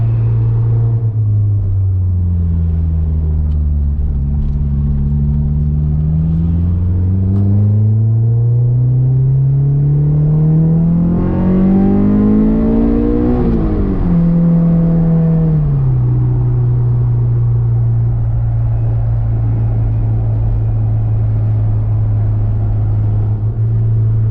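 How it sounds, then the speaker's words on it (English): A Honda S2000 sports car, prepped for track use with new fuel injectors, drives out with its engine droning close inside the cabin. Revs rise and fall, climb to a strong pull, then settle into a smooth, steady light-throttle cruise. "we're gonna go for a quick drive, see how she runs"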